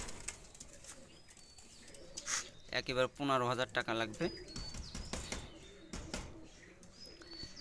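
Pakistani high-flyer pigeons coo and flutter faintly in the background while someone talks over them, their low calls mixed with brief chirps and wing sounds.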